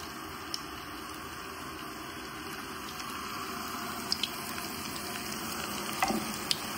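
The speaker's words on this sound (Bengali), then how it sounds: "আমি যে বেরেস্তাটা করেছিলাম ওই বেরেস্তার তেলেই ভাজছি" Minced beef balls fry in oil left from making birista (fried onions), giving a steady soft sizzle with occasional small pops and crackles, fairly quiet and continuous with no talking.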